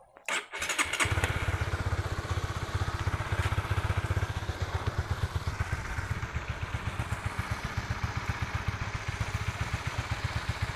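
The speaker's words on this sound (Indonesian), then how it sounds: "motor bisa dinyalakan" A motorcycle engine cranks and catches after a couple of quick attempts, then settles into a steady, rhythmic idle close by.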